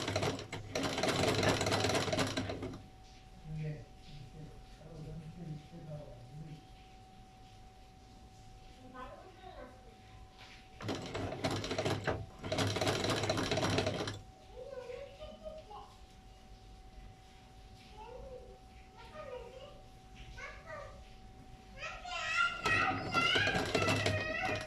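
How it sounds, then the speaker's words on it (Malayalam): A sewing machine stitching folded fabric runs in several loud, steady whirring bursts, close by. Someone talks in the quieter gaps between them. "ഇതിനെ ഇതുപോലെ മടക്കിയിട്ട് തുന്നണം."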